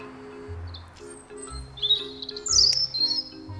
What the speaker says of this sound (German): Ah, hörst du die Vögel?